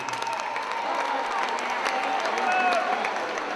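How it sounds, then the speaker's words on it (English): Crowd at a UWC mixed martial arts title fight event applauds the runner-up, a dense, continuous patter of clapping with scattered cheers, while an announcer's voice carries over it. "And a big round of applause to your runner-up"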